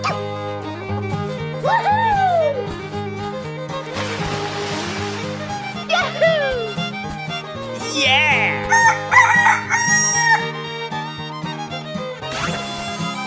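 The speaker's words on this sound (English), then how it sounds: "chicken." A rooster crows several times, rising calls over a busy musical backing with bright chimes and swooshes in a children's animal cartoon.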